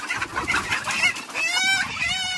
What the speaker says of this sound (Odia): ଆଜି ବୁଲି ବୁଲି ବାଛି ବାଛି ଭଲ ଭଲ ଦେଶୀ କୁକୁଡ଼ା ଧରିକି ନେବି, ଫାର୍ମରେ ରଖିବା।